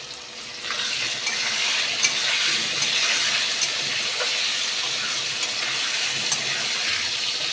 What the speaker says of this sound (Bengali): আবারও আমি বন্ধুরা আলুটা খুব ভালো করে ভেজে নেব।